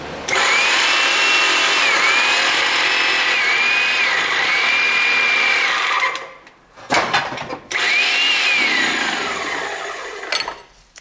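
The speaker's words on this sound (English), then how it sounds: "let's have a look, see if we can bend the brackets. This is an electric over hydraulic type of outfit" An electric-over-hydraulic bender whines loud and steady while bending a steel extension bracket for a BX25D, cuts out briefly with a few knocks, then revs up again, with no voices.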